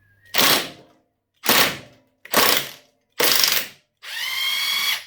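A spanner turning a bolt on a Suzuki DR200 motorcycle swing arm: five loud, close ratcheting bursts separated by brief pauses, the last one longer and more drawn out, with no talking.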